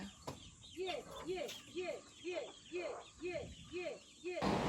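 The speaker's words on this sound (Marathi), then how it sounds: "कोंबडी भेटली" A hen clucks repeatedly in a steady, rhythmic series of short calls, fairly close, with a rustle of background noise and a brief burst at the end.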